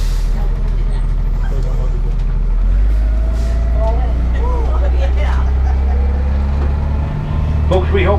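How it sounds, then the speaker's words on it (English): A Zion National Park shuttle bus idles loudly up close with a low steady engine rumble, while a voice speaks over it and brief door and air-brake sounds mix in. "Doors closing."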